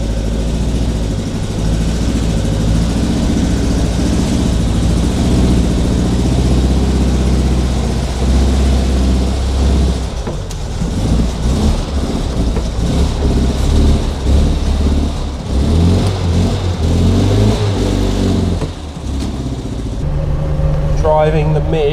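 An old British Midge sports car is driven with its engine running, a loud, close, steady drone that rises and falls in pitch throughout, with people talking over it.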